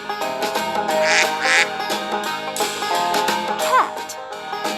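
Cartoon duck quacking in a kids' farm animal stacking game, several quacks over bright background music, close and clear.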